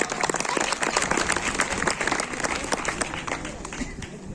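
Audience applause at a Republic Day celebration at a government higher secondary school in Latti, Udhampur, with loud, dense clapping from a close crowd that runs on steadily throughout.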